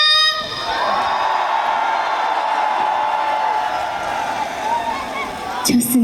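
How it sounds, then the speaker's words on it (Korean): A large outdoor festival crowd at the Yeongdong World Gugak Expo concert cheers, whoops and claps in a loud sustained roar, with a sung or shouted voice ringing above it and a sudden sound change at the very end. "박수와 함성!"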